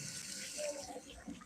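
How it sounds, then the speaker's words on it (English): Tap water runs into a sink during handwashing in a home kitchen, a soft, steady splash heard quietly for a short moment. "Let me wash my hands."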